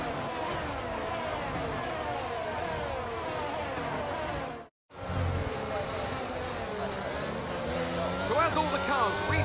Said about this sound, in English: The formation lap gets underway